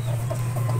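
Chickens in a breeding pen cluck softly over a steady low hum in a brief, close snippet with no talking.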